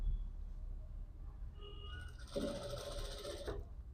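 Sewing machine stitching a seam on a three-dot cut blouse, with a steady mechanical whir starting partway through and running for over a second before stopping, fairly close and alone.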